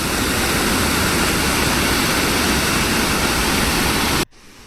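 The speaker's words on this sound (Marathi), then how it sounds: "पाण्याचा प्रवाह वाढत चाललेला आहे" A loud, continuous roar of the rising Bhima River rushing past, dense and unbroken, cutting off abruptly to near quiet just before the end.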